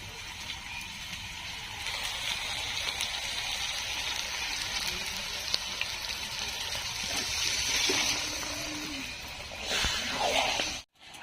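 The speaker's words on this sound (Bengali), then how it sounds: "এবার আমি দিয়ে দেবো জল।" Water poured into a pot of cabbage and meat curry, a steady rushing splash that runs for several seconds, close and fairly loud, with a brief louder surge near the end.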